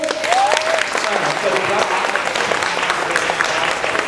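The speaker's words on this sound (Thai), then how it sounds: "ขอเสียงกรี๊ดและปรบมือดังๆครับ" An audience at a children's singing competition claps loudly and continuously, and a raised voice carries over the dense applause.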